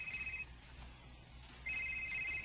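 A mobile phone rings indoors in two steady electronic tone bursts, one at the start and one near the end, over a constant background hum with no talk.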